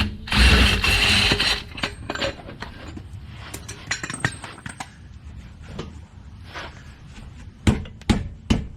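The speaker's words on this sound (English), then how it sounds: "We'll release the bead buster." A bead buster tire tool is released during TPMS sensor replacement on a car wheel, giving a loud opening burst of metallic ratcheting and clanking, then scattered clicks and clinks, with a few sharp knocks near the end.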